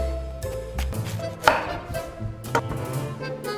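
A knife cuts a triangle out of the core of a fennel bulb on a board, giving several distinct crisp chops and thunks at uneven intervals, close and clear, with no talking.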